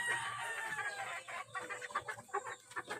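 A rooster let out of its pen clucks and calls at close range, a run of short, irregular bursts over faint farmyard background.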